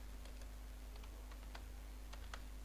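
Keys on a computer keyboard are tapped in a short, irregular burst of faint clicks over a steady electrical hum.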